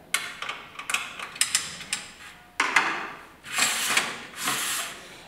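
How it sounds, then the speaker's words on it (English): A screwdriver adjusts an aluminum bike wheel holder, giving a quick series of sharp metallic ticks and clicks followed by a few longer scraping, ratcheting rasps, close up with no talking. "You can adjust by the screwdriver."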